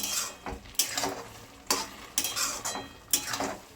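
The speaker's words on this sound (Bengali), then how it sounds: "দেব এলাচ গুঁড়ো। ভালো করে মিশিয়ে নিচ্ছি।" Carrot halwa with sugar and cardamom powder is stirred in a pan: a series of about eight quick scraping strokes of a spoon against metal over a faint background sizzle.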